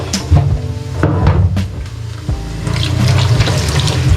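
Hands are washed under a running tap: loud, close splashing water with a few clunks and shifts in the flow as the hands move beneath the stream.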